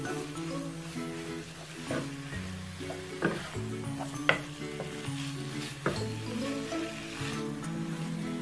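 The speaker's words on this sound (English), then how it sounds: "Now we're going to add in the keema and cook that on medium heat until the keema changes colour." Keema mince frying with chopped peppers for a desi lasagne, a continuous sizzle under repeated spoon scrapes and occasional clinks against the pan, close up and with no voices.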